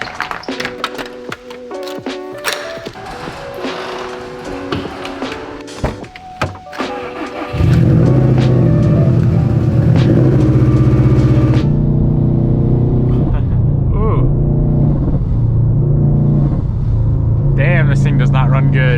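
Subaru STI engine running roughly, first clattering and tapping with talk over it, then settling into a loud, close, steady rumbling idle that holds for several seconds.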